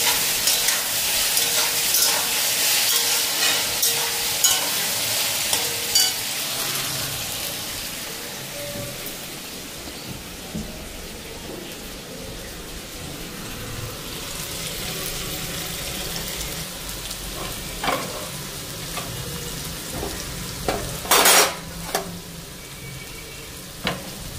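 Potatoes frying in a pan alongside roti, a steady broadband sizzle with bursts of stirring and scraping, close and fairly loud, running continuously with no talk.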